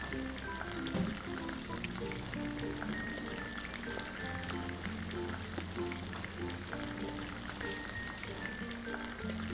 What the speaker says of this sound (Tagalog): Then, idiretso na po natin ito sa kumukulong mantika.